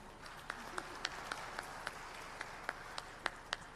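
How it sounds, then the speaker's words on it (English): Scattered, faint applause from a conference audience thanking panelists at an African maritime transport administrations meeting: sparse, evenly spaced claps over a low murmur of room noise. "can you give the panelists a hand of applause"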